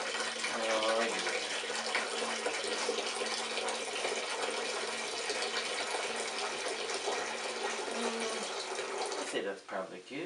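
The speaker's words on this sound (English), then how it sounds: "Go ahead and just crack that open, pour as much as you want in there." Arizona green tea pours steadily from a freshly opened can into a container, a continuous liquid gush with faint talk in the background, ending with a brief shift near the close.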